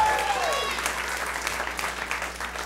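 A comedy club audience at the Ice House applauds, a dense wash of clapping that fades slowly, with a brief rising whistle or whoop near the start.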